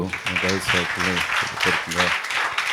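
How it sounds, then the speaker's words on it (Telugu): A congregation at an Independence Day prayer conference claps together in a scattered burst under a voice speaking loudly over it. "మరొకసారి మనం అందరం చప్పట్లు కొడుతూ"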